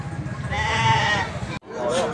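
Goats bleating at Pasar Kucen livestock market in Indonesia, a drawn-out wavering bleat followed by a second shorter cry after a brief cut, near and loud, with crowd and speech murmur underneath.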